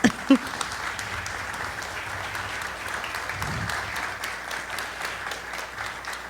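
An audience at a violin students' gathering applauds violin and viola teacher Hella Frank, even sustained clapping at moderate distance after a couple of brief opening sounds, with faint murmuring beneath it.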